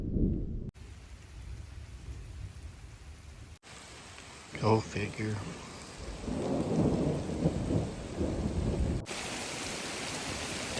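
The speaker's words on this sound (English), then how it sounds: "So thunder is rolling" Steady rain with rolling thunder underneath during an elk hunt in northern Utah, a brief voice speaking partway through.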